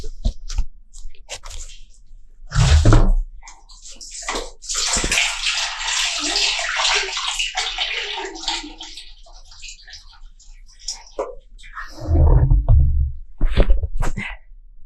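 Water pumped into a cistern at an off-grid home, a steady rushing, splashing flow lasting several seconds between heavier thumps and knocks, fairly close.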